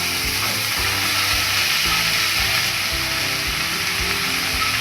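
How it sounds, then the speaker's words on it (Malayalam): Boiled jackfruit seeds fry in a pan for a Kerala-style stir-fry, giving a loud, steady sizzle that stays even throughout, with faint low knocks of stirring beneath it and no voices. "ഇനി നമുക്കിതിലേക്ക് വേവിച്ച് മാറ്റി വെച്ചിരുന്ന ചക്കക്കുരു ചേർത്ത് കൊടുക്കാം."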